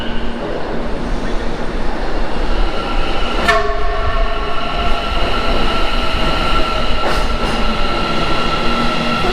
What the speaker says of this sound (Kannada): ಮೆಟ್ರೋ ಬರ್ತಾ ಇದೆ